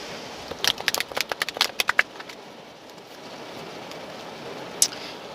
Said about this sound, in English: so 2 more shuffles